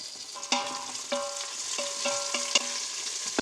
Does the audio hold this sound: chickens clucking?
no